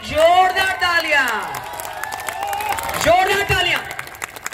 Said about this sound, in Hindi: खड़े होकर के एक बार जोरदार तालियां